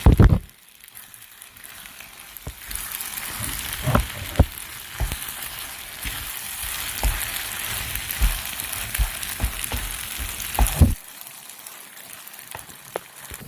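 A pasta sauce of mayonnaise and ketchup is stirred in a hot pan, giving a steady frying sizzle with scattered clicks and scrapes of the spoon against the pan. No one speaks.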